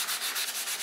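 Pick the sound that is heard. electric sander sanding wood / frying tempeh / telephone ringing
electric sander sanding wood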